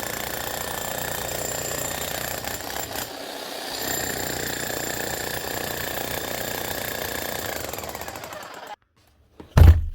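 A rotary hammer drill, one of several Makita, Bosch and Metabo hammers repaired on the bench, hammers under test with a loud, steady rapid pounding rattle for about nine seconds before stopping abruptly, followed by a brief thump.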